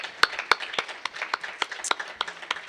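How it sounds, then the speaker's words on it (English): A church congregation claps hands together in a steady, rhythmic beat, with the clapping sounding close and lively throughout. "So let's clap our hands and praise the Amen."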